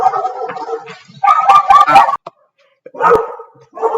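Pet dogs in a home kitchen bark in short, sharp bursts, a cluster of rapid barks followed by a pause and then a few more, loud and close.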